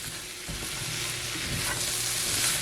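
Mushrooms fry in a pan for a vegan spaghetti sauce, making a loud, continuous close sizzle with soft stirring scrapes throughout.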